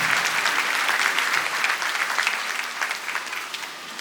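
A church congregation applauds during an Easter sermon, dense steady clapping filling the whole stretch, fairly loud and continuous with a slight fade toward the end.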